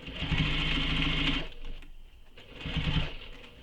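A sewing machine stitches a seam in two fast humming runs with a short pause between, close and fairly quiet.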